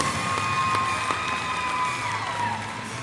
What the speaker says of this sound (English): let's give a big round of applause to our first team selection for 3A North girls